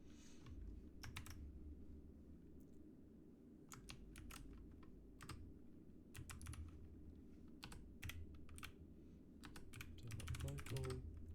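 Computer keyboard keys tapped in scattered short bursts while a dig DNS command is entered, close and moderately loud over a steady low background hum.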